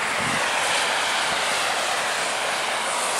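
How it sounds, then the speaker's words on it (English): Snowstorm wind blows steadily outside, a loud continuous broadband roar with no breaks, close and dominant throughout with no voices. "Snowstorm and wind, and it does not look pretty."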